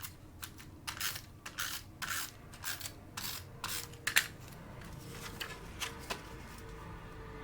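Snail adhesive tape runner rolled across Modern Medley designer series paper makes a series of short dry clicks and rasps at an uneven pace, close by and fairly quiet.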